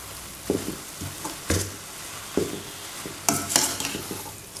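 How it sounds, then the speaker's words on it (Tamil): Manathakkali (black nightshade) greens sautéed in a pan, with a spatula scraping and tossing in irregular bursts over a low, constant sizzle, close up and without speech. "கீரை சேர்த்ததுக்கப்புறமா ஒரு 2 நிமிஷம் இந்த மாதிரி வதக்கி விட்டுருங்க."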